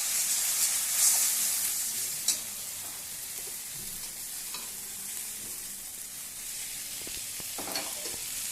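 Poppy seed and dry chilli paste fry with onion in mustard oil, giving a steady close hiss of sizzling oil with occasional spatula taps and scrapes, moderate and continuous.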